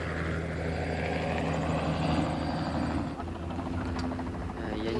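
A Chinese army helicopter flies with a steady, throbbing rotor drone and engine hum, loud and continuous throughout, with a slight dip in intensity near the end.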